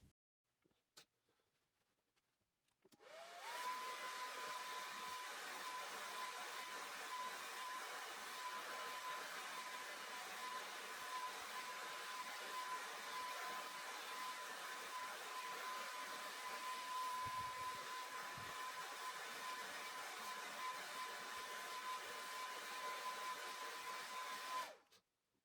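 A hair dryer blows hair dry, switching on after a few quiet seconds and running as a steady loud whirring roar with a faint whine for about twenty seconds before cutting off.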